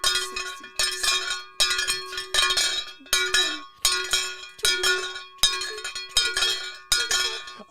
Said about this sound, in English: It was the bell.